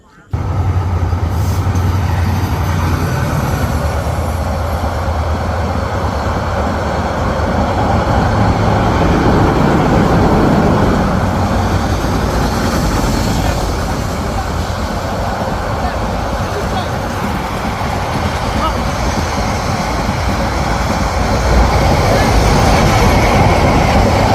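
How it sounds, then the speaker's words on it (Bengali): The Sonar Bangla Express passes on its run from Chattogram to Dhaka with a continuous loud rumble and rattle of carriages that lasts throughout. Faint voices sit beneath the noise. "অবশেষে আমরা ট্রেন দেখলাম। চট্টগ্রাম থেকে আগে আসতে ঢাকার উদ্দেশ্যে সোনার বাংলা এক্সপ্রেস।"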